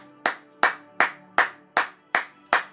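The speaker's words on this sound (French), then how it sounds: "Est-ce qu'on peut acclamer pour la gloire de Jésus-Christ?" A church congregation claps in praise, seven sharp, evenly spaced claps ringing close and loud with a short decay, no voices over them.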